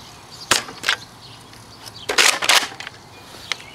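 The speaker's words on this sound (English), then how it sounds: "Elite darts out of the Retaliator with the 18-round mag" Nerf N-Strike Elite Retaliator blaster with an 18-round Stampede magazine firing Elite darts outdoors: a few sharp snapping shots with quick priming clacks, one tight double cluster in the middle, nearby against a quiet background.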